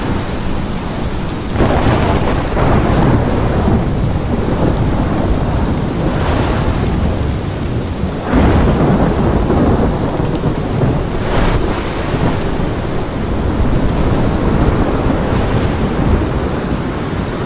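A thunderstorm in Life is Strange Remastered: steady heavy rain with deep rolling thunder that swells and fades several times, loud and continuous throughout, with no talking.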